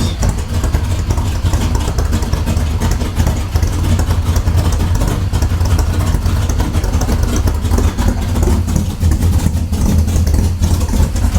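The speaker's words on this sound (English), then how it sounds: "This is one of the best sounding 318s." A Plymouth Road Runner's 318 V8 with an aggressive cam idles loudly and close, its deep rumble pulsing in a steady, lopey rhythm throughout.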